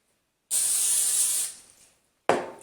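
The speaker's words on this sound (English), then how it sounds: "I'm going to go ahead and hit one side with the cooking spray" Two hissing bursts from a cooking spray can onto potato slices, a long spray lasting about a second followed by a shorter one, close and crisp.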